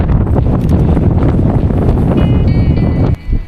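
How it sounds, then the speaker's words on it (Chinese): Strong wind buffets the microphone on a small volcano hilltop at Ulanhada in Ulanqab, a loud, continuous rumbling roar that briefly drops near the end before gusting back. "好大风啊！"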